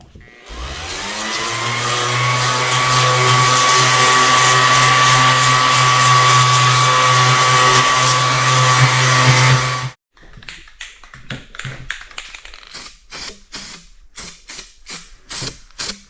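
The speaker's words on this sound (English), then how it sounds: "I'm just going to take the orbital sander and blend these spots" Orbital sander blending paint spots on a 2003 Yamaha YZ450F motorcycle frame, a loud steady whining drone for about ten seconds that then cuts off, followed by scattered sharp knocks and handling clatter.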